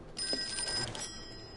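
In the Call of Cthulhu video game, a telephone rings once, a short bright metallic bell trill lasting about a second over a quiet room background, no talking.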